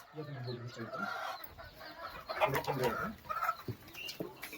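Saurangi-breed chickens and a Khudup rooster cluck and murmur nearby in a quiet farmyard, with some soft cooing and a voice talking faintly underneath.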